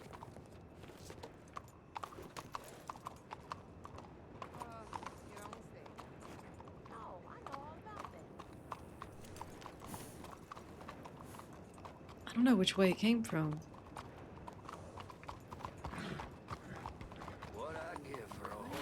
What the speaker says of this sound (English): What I give for a horse as fine as that?